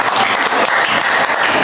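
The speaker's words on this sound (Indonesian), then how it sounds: "Tepuk tangan dong dari yang mampu." Audience applause at a live music performance, dense steady clapping that fills the whole moment without a break.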